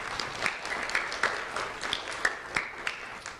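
An audience claps for a civilian support unit at a community recognition event, a steady wash of applause with scattered louder individual claps, continuous throughout at moderate distance.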